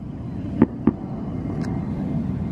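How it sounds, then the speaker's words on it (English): A distant fireworks show over a bay near San Diego sends two faint, quick pops through a steady low outdoor hum, followed by a soft higher crackle. "Spot for fireworks apparently."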